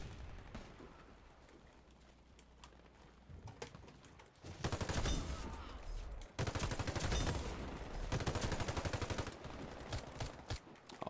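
Automatic gunfire from a Desert Tech rifle in the shooter game Warface, faint and sparse at first, then loud sustained bursts of rapid shots from the midpoint onward.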